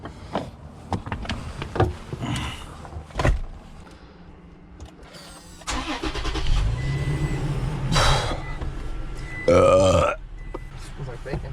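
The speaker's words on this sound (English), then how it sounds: "I just burped" A man burps loudly outdoors beside a high mountain river during a fishing trip, a single drawn-out belch rising from casual chatter and outdoor background noise.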